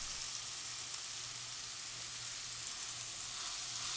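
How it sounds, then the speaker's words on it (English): Meat for birria tacos sears in a hot pot, giving a continuous close, even sizzle with a crackling hiss throughout and no talking. "Yes, sear those sides, press it down."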